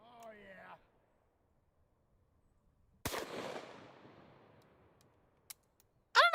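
A single sharp gunshot with custom ammunition fired at a target cracks loudly and decays over a couple of seconds, followed by a small click, with brief voices before and after.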